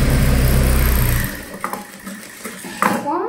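Sewing machine running steadily and loud for over a second while stitching around the neckline of a size 38 gown with lining, then stopping, followed by light handling clicks and rustles of fabric.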